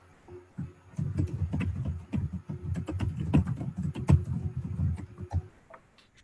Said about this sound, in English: I'll type that.